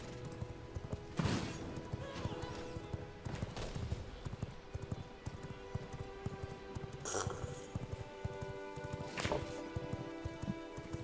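A horse gallops in V Rising, its rapid rhythmic hoofbeats pounding steadily up close, broken by a few sharp snorts or whinnies over a low game ambience.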